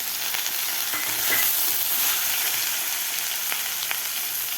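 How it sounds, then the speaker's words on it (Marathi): Beans and brinjal sizzling steadily in a hot pan while being sautéed, a continuous bright frying hiss with occasional stirring scrapes, close and even, no speech. "शेंगा आणि वांगे व्यवस्थित परतून घेतलेले आहेत"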